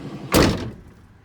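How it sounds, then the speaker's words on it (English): Manual sliding side door on a 2024 Ford Transit 15-passenger van rolling shut with a single loud close thunk, followed by a brief fading rattle, close by with no talking. "This is a manual slide door."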